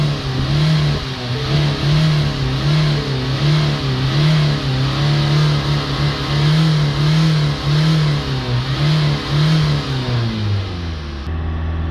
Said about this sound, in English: I'm holding the revs here